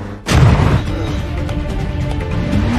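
Bomb exploding inside a tunnel in the action film Ice Road: Vengeance, a sudden heavy boom followed by a long, loud, rumbling roar of debris and echo.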